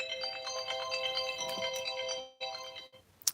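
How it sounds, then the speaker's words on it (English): A phone ringtone plays indoors during a live craft stream about retiring stamp sets and card samples: a steady electronic melody rings for about two seconds, breaks off, resumes briefly, then stops, with no talking over it. "Sorry, that was my phone ringing."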